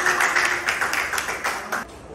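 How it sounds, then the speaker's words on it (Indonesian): Schoolchildren in a classroom clap together in a brief burst of applause, with strong, close claps that taper off and fade near the end. "Oke, tepuk tangan."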